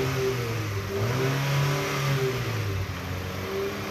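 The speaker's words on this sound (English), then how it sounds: "Let you listen to the engine." A 2006 Nissan Altima 2.5 SL engine runs steadily up close, its low hum swelling briefly as it revs, then settling back to idle.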